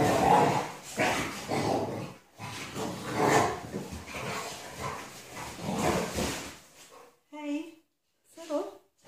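Dogs bark and growl in dense, overlapping bursts, then a few sharp separate barks near the end, loud and close.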